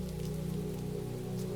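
Steady rain falls in a sheltered forest, a dense, even patter on leaves and ground that holds at the same moderate level throughout, with no voices or other sounds.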